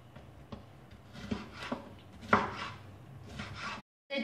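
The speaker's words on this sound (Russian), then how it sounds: "Также нарезаю болгарский перец." Bell pepper chopped with a knife on a cutting board, a few soft close knocks and crunchy slicing sounds at an uneven pace, ending abruptly, without speech.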